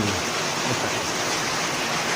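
Heavy rain blowing in and soaking a floor, a steady broadband hiss and wash of water that stays loud and unbroken throughout, with no voices.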